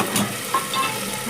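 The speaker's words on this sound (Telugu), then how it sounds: "కరివేపాకు వేసుకుందాం." Curry leaves dropped into hot oil over a simmering brinjal masala curry give a brief, steady crackling sizzle at moderate loudness, heard alone without any talk.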